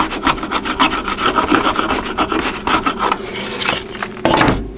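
A chisel, bevel down, pares wood to clean up the bottom of a 5/8-inch dado cut for plywood, making repeated scraping and rasping strokes in an uneven rhythm, close and moderately loud, with no speech.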